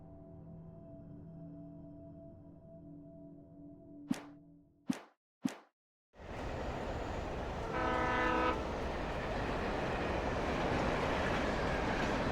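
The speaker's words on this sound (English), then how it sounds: "What, am I gonna jump onto the train?" A train passes in the video game Alan Wake: a sudden loud rumbling roar of rail cars with a sustained horn blast near the middle, after an earlier quieter stretch marked by a few sharp transient hits.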